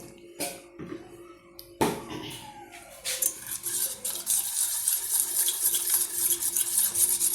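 Flour and sugar are mixed in a bowl, a few sharp clinks of a utensil giving way to continuous soft scraping and stirring, close and moderately loud without speech.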